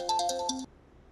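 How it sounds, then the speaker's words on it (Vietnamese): A short electronic phone ringtone for an incoming call, a quick bright melodic burst of a few tones that stops abruptly, close and alone. "Anh Thành ở bên Indo gọi về"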